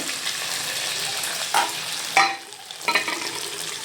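Onions frying and sizzling in a pan for chicken palav, a loud close hiss with a few stirring scrapes breaking through, no talk.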